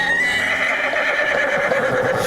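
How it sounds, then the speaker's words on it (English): A horse whinnies loudly and continuously in an audio drama scene, its shrill neighing cry drawn out across the whole moment with no talk over it. "That horse! It started attacking me."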